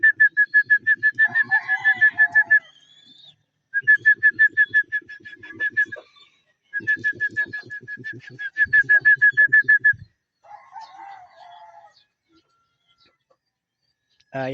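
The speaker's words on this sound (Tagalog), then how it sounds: "Ayaw pa pumasok ng mga ibon." Repeated cooing and whistling calls from racing pigeons at a mini flyers loft, in bursts with short pauses, close and fairly loud.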